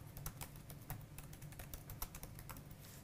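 Quick, steady keystrokes on a computer keyboard as a file name is entered while saving a project in Audacity, close and fairly quiet, with no one speaking.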